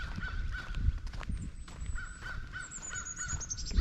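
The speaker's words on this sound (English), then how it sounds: "Enjoy the sounds of the birds." Birds calling in a Florida state forest, with crow-like caws repeating over steady outdoor ambience and thin high whistled notes drifting in the distance.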